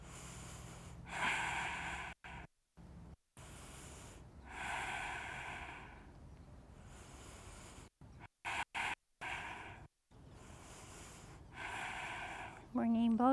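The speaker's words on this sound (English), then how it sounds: "Breathing." Breathing during a yoga exercise: several audible inhales and exhales come in separate bursts, faint and close, with brief gaps of silence between them.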